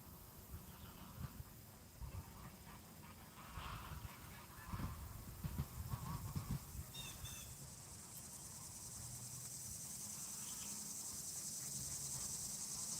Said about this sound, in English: You can hear all those ducks.